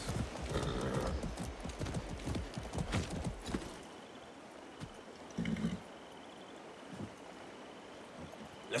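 A ridden horse's hooves clip-clop steadily in Far Cry 6, loud and close for about four seconds, then fading to quieter ambience with a few scattered hoof sounds.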